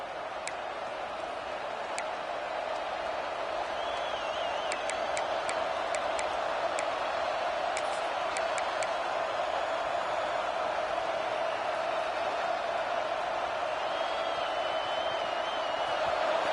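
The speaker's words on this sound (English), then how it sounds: "Listen to this crowd just shaking the girders of this place, trying to help their defense" Football stadium crowd at an Ohio State home game roars steadily and loudly for its defense, a dense sustained wall of noise with a few sharp whistles and clicks poking through.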